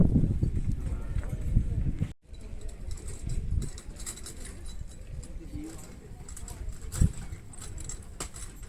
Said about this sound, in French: La petite balade, là, comme ça, en calèche.